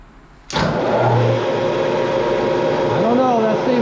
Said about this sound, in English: try to take a cut, a depth of 20 thousandths or 30 thousandths starting through these splines on automatic feed